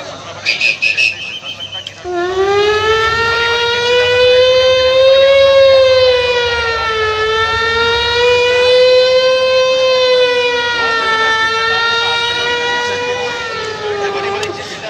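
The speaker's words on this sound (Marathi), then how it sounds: "पोलीस व्हॅनचा आवाज आहे." A police van siren wails in traffic, its rising and falling tone loud and close as it approaches, continuing steadily for most of the stretch after a brief burst of other noise at the start.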